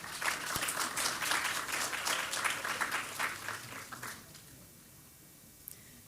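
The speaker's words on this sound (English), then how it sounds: "please give a round of applause to Christine Yeh" A conference audience applauds a speaker at a multiple myeloma patient event in Houston, a dense burst of clapping that holds for several seconds, then fades into quiet room tone with a last stray clap.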